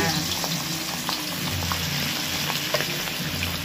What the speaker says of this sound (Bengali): এবার সেই ম্যারিনেট করা চিকেনটা তেলের মধ্যে দিয়ে দেবো।